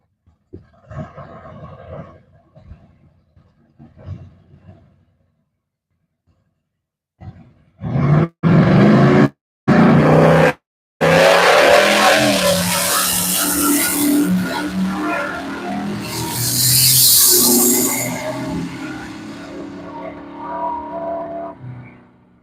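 A GMC Typhoon drag car with a naturally aspirated 632 engine launches at a drag strip. A quiet stretch and a few sharp bangs give way to a long, loud, roaring engine blast that stays heavy and close.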